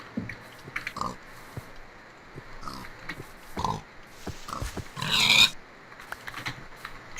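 Pigs in the Minecraft video game oink in short scattered grunts at moderate loudness, with a louder burst midway amid game clatter and a little player chatter.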